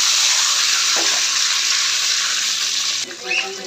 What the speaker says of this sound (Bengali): একটু ভাজা হয়ে গেছে বেশি, এখন একটু পানি দিই।